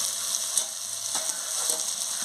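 Onion-stalk curry, just uncovered after simmering, is stirred in a pan with a steady close sizzle and soft, intermittent spatula scrapes throughout.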